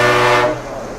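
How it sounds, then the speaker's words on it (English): A truck horn gives one loud, close, sustained honk, strong for about half a second and then fading away quickly. "The honk was a truck."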